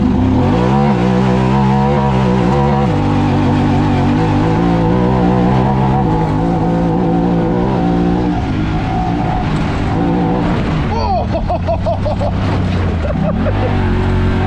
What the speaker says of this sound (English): So then I'm just gonna go foot hard down, two-wheel drive, and see what happens.